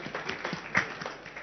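Sparse, faint applause from an audience, with scattered individual claps over a short stretch and no one speaking.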